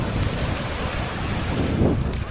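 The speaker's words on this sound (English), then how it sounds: "Big waves." Big ocean waves rolling onto a Hawaii beach, a steady broadband wash of surf with heavy wind rumble on the microphone and a slightly louder surge near the end, no voices.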